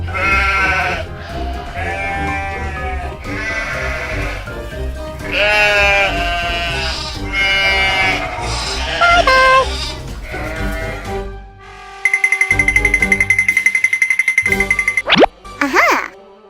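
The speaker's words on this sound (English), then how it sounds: "Sheep." Cartoon sheep in a Pacman animation bleat repeatedly in loud, wavering, quavering cries, followed by a burst of bright electronic game-style tones and a boing-like effect.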